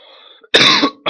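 Two short harsh coughs, close and loud, the first longer, the second clipped off quickly after a brief pause.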